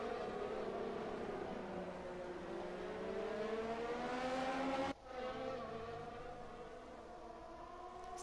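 F1 race cars on a wet track in the F1 2020 video game, engines droning and rising in pitch as they accelerate, a continuous whine with a brief dip midway as the sound shifts.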